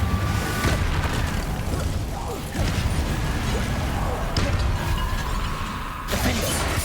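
Confringo fire spell in Hogwarts Legacy gameplay, a sustained roar of fiery blasts with sharp bursting impacts and clattering debris, loud and dense throughout, with a voice briefly heard.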